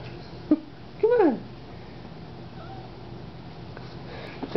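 A cat meows in a few short rising-and-falling calls, one clear loud meow followed by fainter ones, with a person's voice calling nearby between them.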